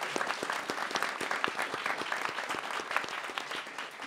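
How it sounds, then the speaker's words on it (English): Applause for two event organizers at a Council for Court Excellence event, brisk, steady clapping from a modest audience for about four seconds, fading slightly at the end. "let's give both of them a round of applause"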